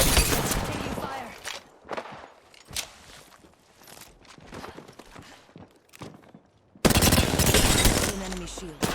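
Rapid gunfire bursts in a first-person shooter game, loud, close and chattering, with sharp shots and footstep-like clatter, broken by a brief drop before a loud blast of fire resumes near the end.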